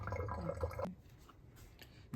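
Rinse water drains off washed mutton in a home kitchen, a close splashing trickle that stops abruptly partway through, followed by a few faint drips in near silence.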